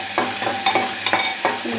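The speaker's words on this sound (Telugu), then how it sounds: "వేసుకొని చక్కగా సిమ్లో పెట్టుకొని వేపుకోండి." Boiled prawns frying in a pan over a low flame, with a steady close sizzle broken by several short scraping stirs of a spatula against the pan.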